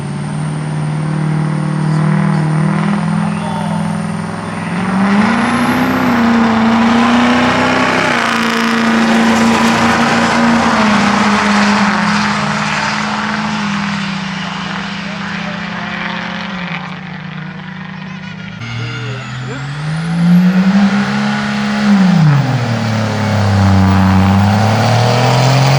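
A two-wheel-drive diesel truck with a drop-in turbo runs at a diesel drag racing event, a loud, sustained engine drone that climbs, holds, dips and surges again in pitch over nearly half a minute, with a high whine on top.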